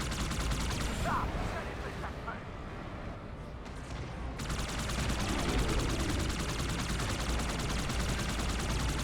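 Machine gun fire in the Halo 2 video game, bursts and rapid sustained firing through a noisy battle. There is a brief lull in the middle before the shooting resumes continuous and loud.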